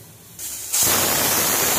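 A sharp hiss of escaping steam from a pressure cooker whistle starts suddenly and grows louder, a steady, close, continuous rush of venting.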